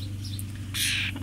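Young hand-raised starling giving a short bright chirp near the end of a brief, quiet clip, close, over a low steady background hum.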